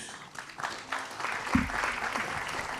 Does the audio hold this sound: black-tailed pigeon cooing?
no